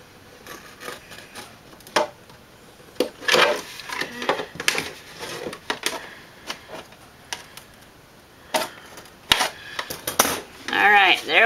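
Utility scissors cutting through a plastic container, with irregular crunching snips and scraping plastic in short bursts, close and fairly loud, separated by quiet pauses.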